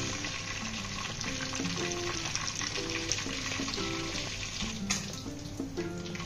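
Bay leaves, four or five dried chillies, cinnamon, cloves, cardamom and peppercorns sizzle steadily in hot oil in a pan, a close, continuous crackling fry with faint stirring and clinks, no talk.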